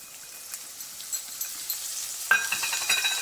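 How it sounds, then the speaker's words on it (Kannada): Sprouted fenugreek seeds drop into hot oil and break into a sudden sizzle partway through, crackling steadily at close range after a quieter stretch of faint kitchen noise. "ಇವಾಗ 5 ಟೇಬಲ್ ಸ್ಪೂನಷ್ಟು ಮೊಳಕೆ ಬಂದಿರೋ ಮೆಂತ್ಯದ ಕಾಳು ಹಾಕೊಳ್ಳೋಣ."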